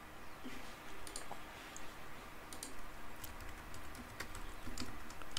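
Soft typing on a computer keyboard: scattered key clicks and taps over a steady background hum, faint and close, without any speech.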